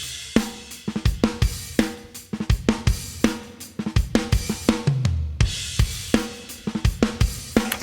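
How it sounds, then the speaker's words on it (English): Drum kit in a Green Day mix with a touch of Yamaha SPX 90 plate reverb on snare and toms, sharp close hits and fills in a steady rock groove with a short bright tail. "add just a little bit of a plate reverb from a Yamaha SPX 90 on the snare and a little on the toms"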